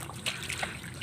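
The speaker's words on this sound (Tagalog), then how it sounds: "ito lumalabas na yung tubig dito" Water drains out of a flooded rice field, a faint, close trickle and dribble lasting about a second.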